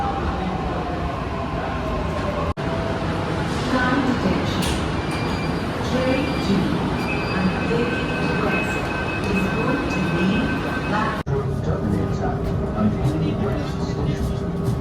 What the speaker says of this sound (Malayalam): നമുക്ക് പോകാനുള്ള മെട്രോ വന്നു